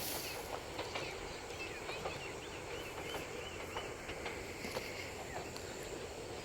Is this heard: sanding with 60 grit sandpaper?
no